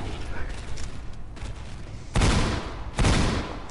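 Gunfire in a dinosaur video game: two loud, booming bursts of shooting crash in close together over a steady background of game noise.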